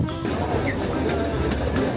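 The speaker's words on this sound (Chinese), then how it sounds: "现在呢，先去坐游园小火车。" A miniature train ride at an amusement park makes a steady, loud, close rumble and clatter that runs without a break.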